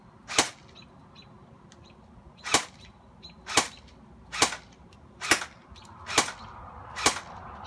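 Umarex H&K UMP 45 Competition Series airsoft gun fired on semi-auto: seven loud, sharp cracks spaced about a second apart, close by, with no talking between shots.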